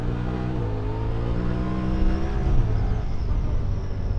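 A Honda Talon 1000R-4 side-by-side in four-wheel drive, its engine droning with a steady harmonic hum that climbs and dips as it revs while driving, close and fairly loud, with no voices.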